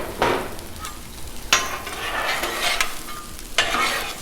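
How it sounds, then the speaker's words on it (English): Vegetables sizzle on a hot Blackstone griddle for a pork belly stir fry, a steady close crackling fry broken by several sharp scraping stirs of a spatula across the steel surface. "So got a sizzle from it."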